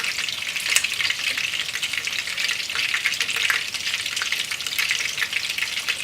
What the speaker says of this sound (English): So let's bring you not too close to the oil because oil is popping.